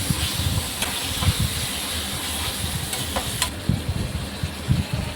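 Chicken sautéing in a pan for Pallipalayam chicken, a steady close hiss and sizzle running throughout with occasional soft stirring knocks and scrapes, no voices.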